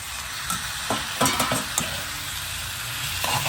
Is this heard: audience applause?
no